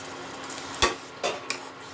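A spoon stirring a thin paste of ground cashew and melon seeds into a cauliflower and egg korma curry in a pan, with three separate soft scraping strokes over a low simmering hiss.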